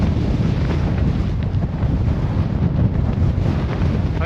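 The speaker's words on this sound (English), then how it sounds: "We're heading into the fiercest wind of my life." Fierce, relentless wind roars and buffets a microphone on Iceland's Laugavegur Trail, a dense, loud, unbroken rush with no voices.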